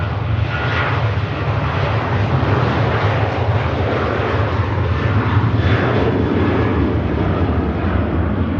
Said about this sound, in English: Departure from the Ryanair.